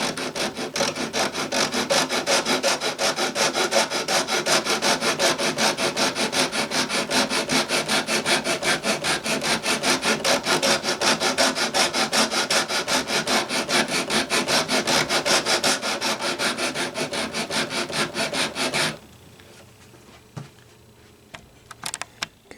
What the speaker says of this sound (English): now sandpaper again